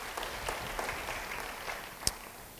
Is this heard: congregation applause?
yes